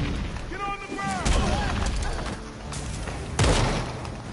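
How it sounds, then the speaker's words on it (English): Gunfire aimed at the player in the Gotham Knights video game, scattered bursts and a couple of heavy booming hits amid game effects, with a character's voice speaking over the start. "Y'all are shooting at me?"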